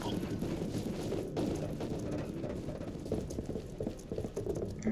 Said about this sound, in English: Jumping up and down, shooting with a shotgun.